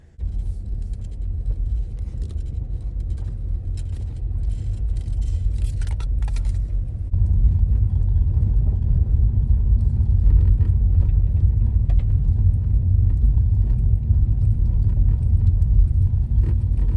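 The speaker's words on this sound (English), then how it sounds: "Just let the car warm up for a little bit" A car idles as it warms up before a road trip, its deep steady engine rumble close and loud, swelling into a stronger drone partway through as it pulls away, with a light jingle of keys early on.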